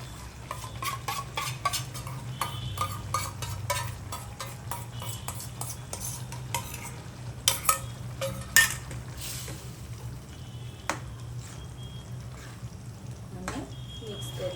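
Homemade tomato gravy is tipped into sautéed onions in a pan for paneer butter masala and stirred, giving steady scraping and clinking of a spoon against metal over a low, continuous sizzle.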